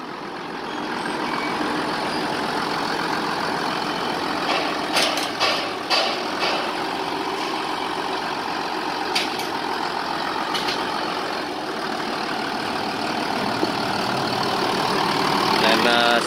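Diesel engine of an Iseki 8010 tractor idling steadily at close range, a continuous low mechanical rumble with a few brief clicks and knocks, and a voice speaking over it.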